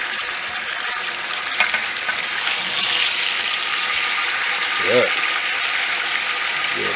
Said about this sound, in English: So I'm taking the last of this meat out, browned it up.